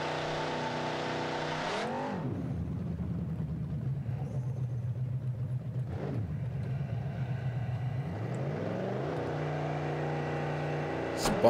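A drag car in BeamNG roars off the line, the engine pitch swooping down and rising again as the tires spin, then revving hard once more; loud and continuous, with no talk.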